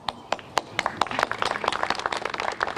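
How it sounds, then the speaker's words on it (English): An audience at an evening Pakistan-focused policy institute event in the USA breaks into applause, starting with a few scattered claps and swelling into steady, dense clapping from a sizeable crowd, with a voice faintly audible underneath. "let's please give him a round of applause"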